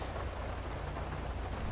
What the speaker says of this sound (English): the rain effects on this game are amazing